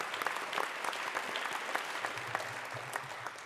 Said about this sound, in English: but yes, applaud